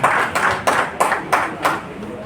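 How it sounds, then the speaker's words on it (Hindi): An audience claps to welcome a speaker onto the stage at a meeting, with a run of short, sharp bursts in an uneven rhythm and background noise running underneath. "जोरदार तालियां सर के लिए।"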